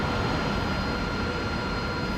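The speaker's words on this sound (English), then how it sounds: "Let me shut down so you can all hear it properly." A simulated F-16 jet engine in DCS World gives a steady, loud, broadband roar with a constant tone, heard up close with no voices over it.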